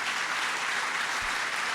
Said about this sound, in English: Let's give a round of applause to Matt Horn and thank him for all his good work